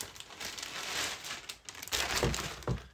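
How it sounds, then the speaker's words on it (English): A plastic bag wrapped around a leather handbag crinkles and rustles close by in irregular bursts, growing louder toward the end, with no talking. "So it comes in your plastic bag,"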